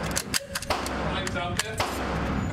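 Lee Enfield No. 4 Mk 1 rifle firing outdoors, a few sharp loud reports with short ringing tails spaced irregularly, heard close with some background chatter.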